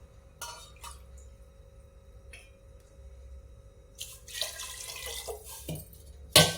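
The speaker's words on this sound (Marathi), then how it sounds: "अजून 1 वाटी पाणी घालूयात" Water is poured in a few short splashes into rice and moong dal for khichdi, followed by clinks and a louder burst of pouring and stirring near the end, with no talk.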